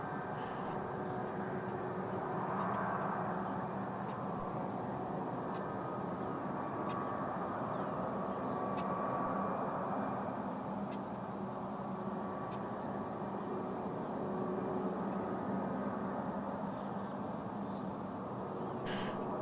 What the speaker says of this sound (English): It's an Embraer 175.